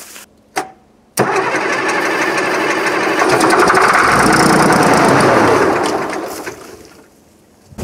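A Case 1150 dozer's diesel engine cranks briefly, then catches on ether starting fluid and roars up to a loud, steady run nearby before dropping back down and fading near the end.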